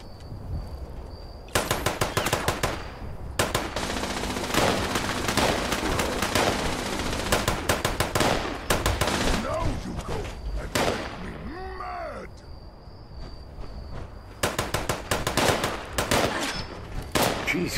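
Rapid automatic gunfire from the video game Fallout 76 rattles in long, dense bursts, loud and close, broken by brief pauses and short quieter gaps, with a voice speaking once in between.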